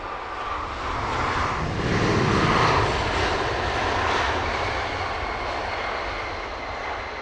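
Jet engines of an Airbus A350-900 arriving overnight at Heathrow roar in a broad, fairly near wash that swells in the middle and then eases off slightly.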